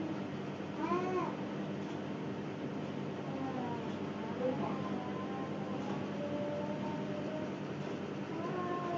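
Cats fight nearby, giving out several drawn-out meows and wailing caterwauls in irregular bursts over a low steady hum, with faint talk in the background.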